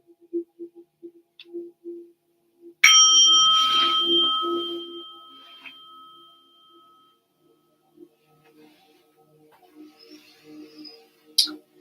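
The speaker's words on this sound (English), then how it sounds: "I'm going to ring the bell, which means it's time to quiet the mind and be present here and now." A meditation bell struck once to open a yin yoga class, ringing out clear and close, then sustaining a long shimmering tone that slowly decays over several seconds, with quiet speech and soft sounds before and after.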